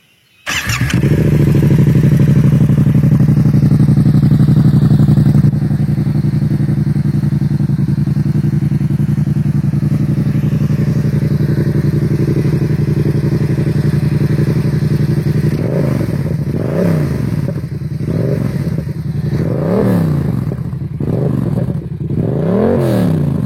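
Yamaha MT-07 motorcycle running with its exhaust baffle removed, a loud, steady, deep idle close by that later breaks into a series of sharp revs, blip after blip in quick succession, with no talking.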